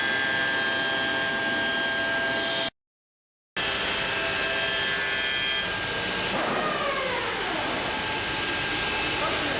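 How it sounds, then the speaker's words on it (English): A drum sander in a woodworking shop breaks down: a steady, loud machine whine runs on, then warps into a wavering, sliding pitch as it fails. "And that rather beautiful sound there was the sound of Andy and Sophie breaking the drum sander"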